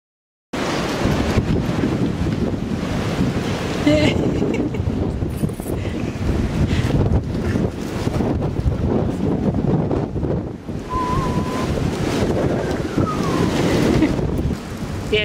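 Strong wind buffets the microphone outdoors, a loud, steady rushing roar that lasts almost the whole time, with faint background sounds.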